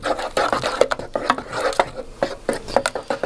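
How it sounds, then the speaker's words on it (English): Butter is whisked in a hot pan, a busy stream of quick scraping and rubbing strokes in an uneven rhythm, close and fairly loud. "Now, whisk in."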